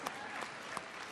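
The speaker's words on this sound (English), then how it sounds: "You're applauding." Brief applause from a convention audience at a Warcraft art panel, a short burst of steady clapping with a few sharper claps standing out.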